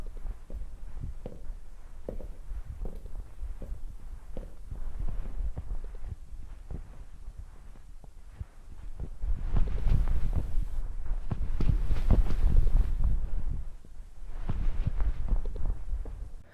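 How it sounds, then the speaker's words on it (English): Footsteps pace steadily through empty, liminal Backrooms corridors in a video game, a soft regular tread over a low hum that grows denser and louder midway before easing off again. "No music, no sounds of other people, just the sounds of your own footsteps and your own mind's creations."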